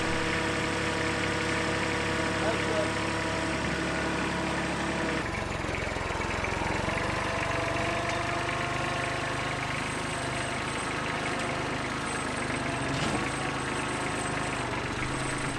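A tractor engine idles steadily and close up while straining against a shed on a new pad, a low knocking drone that shifts in tone partway through, with no voices.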